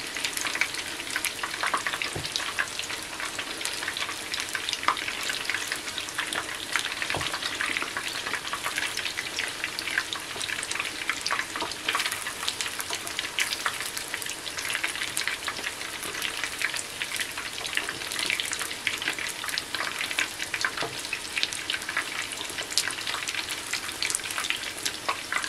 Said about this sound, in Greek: Έτσι, για να τηγανιστεί και η πατάτα και το κρέας μας